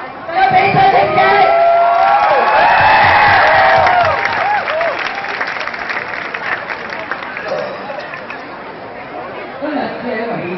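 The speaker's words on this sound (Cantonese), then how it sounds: "大家俾掌聲嘅" At a Hong Kong student strike rally, a large outdoor crowd breaks into sustained applause mixed with cheering and loud chatter; voices are prominent early on, then a steadier wash of clapping and crowd noise continues.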